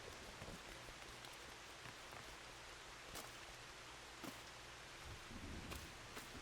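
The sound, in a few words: rain in Final Fantasy XIV video game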